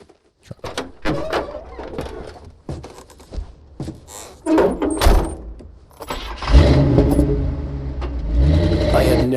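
A truck in Alan Wake 2 makes clunking door and handle sounds, a series of sharp knocks followed by a louder engine starting and running on, close and with no voices.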